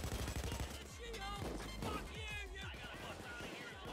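Gunfire in PayDay 2 during a heist, a steady rattle of rapid shots at mid distance under continuous talk and game voices.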